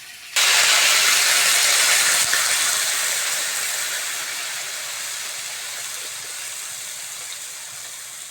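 Water poured into a pan of fried banana and sweet potato sets off a loud sizzling hiss that starts abruptly, then slowly fades over several seconds, with no talking.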